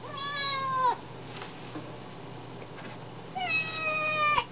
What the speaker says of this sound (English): that's the kitten down there thinking she's missing out on fun